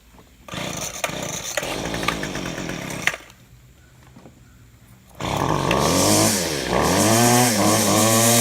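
A homeowner's small two-stroke lawn care engine, recently carburetor-adjusted, gets a couple of pull attempts with brief sputters, then fires and settles into a loud, buzzy, steady run close by.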